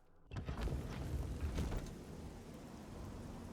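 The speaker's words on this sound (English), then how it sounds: "It's still raining, I see." Steady rain in the Oblivion video game begins abruptly and keeps up as a soft, continuous hiss with a low rumble underneath, with no talking.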